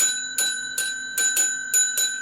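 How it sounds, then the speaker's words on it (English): A bell rung during a Manic Minute board game session, struck six times in a steady rhythm, each ring bright and ringing with a lingering tone, close and clear with no talk. "And you got a bell?"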